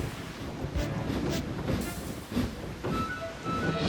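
A steam engine hauls a long train of coaches, its low rumbling chuff and wheel noise rolling steadily throughout, with a few sharper bursts along the way.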